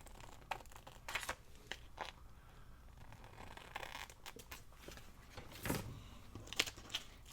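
Scissors snip a small piece of paper for a specimen-window mini journal, a handful of crisp crinkling cuts and rustles spaced irregularly, close and fairly quiet with no talking.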